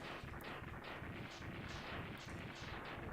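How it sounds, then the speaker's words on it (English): Explosion cutscene in the Mega Man X3 video game: a dense, continuous barrage of loud booming blasts pounds in rapid repetition, crackling and rumbling without a break. "they give it, like, the Maverick explosion cutscene that just takes up more time"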